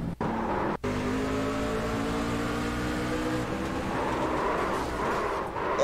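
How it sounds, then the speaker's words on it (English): Race truck engine in iRacing at Talladega, a loud continuous roar revving high after a missed shift, steady and close with brief dropouts near the start. "Really listen, you'll hear the engine rev up quite a bit."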